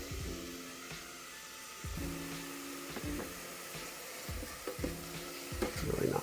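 Vegetables sauté in an Instant Pot with a soft, low sizzle and periodic scraping stir strokes, alongside a steady appliance hum; fairly faint overall.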